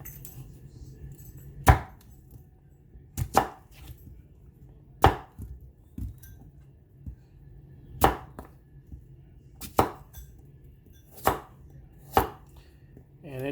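A Ganzo knife chops onions on a board in eight sharp, separate strokes at uneven intervals, each a crisp, close knock with a low hum of room noise underneath.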